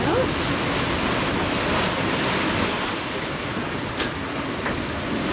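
Broadband ocean waves wash steadily against the hull of a sailboat making a passage from the BVI to Panama, rolling side-on in heavy seas, with wind noise and continuous close sloshing that surges slightly but never breaks off.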